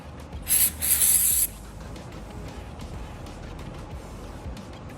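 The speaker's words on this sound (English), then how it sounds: "I'm just gonna hit it with my little oil spray" A short, sharp aerosol oil spray hiss lasts about a second near the start, during a 2JZ-GTE engine head installation, followed by quiet background noise.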